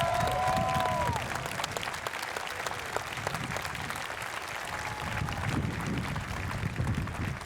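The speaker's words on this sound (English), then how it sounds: "A round of applause." A crowd lining an Armed Forces Day parade in Torrance, California claps for an honored veteran, a broad, moderately distant wash of applause with a few whistle-like tones and a faint voice in the background.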